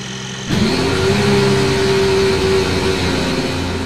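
A Formula 1 car engine in the racing game Formula Alpha 2024 fires up abruptly after a moment of quiet, then holds a loud, steady, buzzing rev that stays close and sustained.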